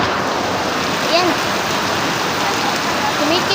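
Heavy rain pours steadily during a tropical storm, a dense, loud, unbroken hiss of water that runs through the whole stretch with no break and no talking.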